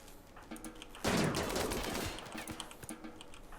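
Rapid charge rifle gunfire from the video game Rimworld during a base siege, a dense loud burst of shots erupting about a second in and lasting roughly a second, followed by scattered fainter shots and crackle.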